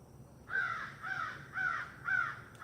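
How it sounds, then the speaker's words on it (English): A crow caws outdoors, four harsh, evenly spaced calls at moderate distance over a quiet background. "sorry if you hear that crow, we're literally outside."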